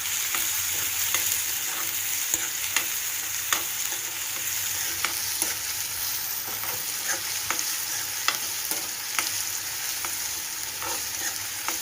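Onion and curry leaves fry in hot oil with a loud, steady sizzle, broken by occasional clicks and scrapes of a stirring spoon against the pan.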